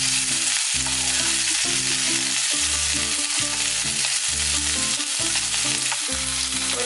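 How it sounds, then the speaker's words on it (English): Cauliflower florets (gobi) and potato sizzle and crackle in hot oil, a loud, steady fry with repeated clatters of stirring throughout, no voices over it. "then I will put this gobi and aloo for frying"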